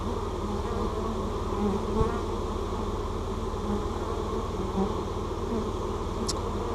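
Honey bees buzzing around a laying-worker hive as vacuumed bees are added, a loud, continuous, dense hum from many bees close to the microphone, steady throughout with no talk.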